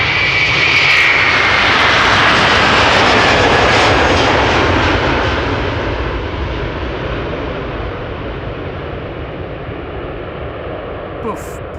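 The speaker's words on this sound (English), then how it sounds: "KLM flight 651 on its way to Washington." A KLM jet airliner departs Amsterdam Schiphol Airport with a loud, broad engine roar that holds strong for several seconds, then slowly fades as the aircraft moves away.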